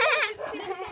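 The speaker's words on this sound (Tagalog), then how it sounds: "Andito po ang mga kambing." Goats on a provincial farm bleat in a short, wavering cry that tapers off, heard fairly close and clear.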